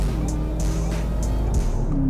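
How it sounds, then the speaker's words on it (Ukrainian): A Mercedes-Benz S560 (W222) engine revs and accelerates up close, with a rising drone and a few sharp chirps over a constant low rumble. "Ми можемо дати чуть такого розгончику. Як вона набирає і пішла"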